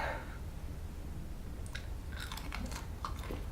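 Close, crunchy chewing and biting on homemade beef jerky seasoned with black pepper and red pepper flakes, with irregular crisp bites clustering in the second half over a low steady background.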